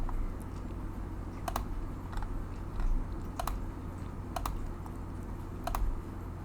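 Computer keyboard keys pressed in short shortcut combinations, sharp clustered clicks in small bursts of two or three, quiet and close against a faint background hum.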